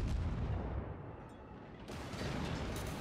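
Naval guns firing in World of Warships from the USS St. Louis make a loud, continuous rumble of heavy booms that blend together, swelling again near the end.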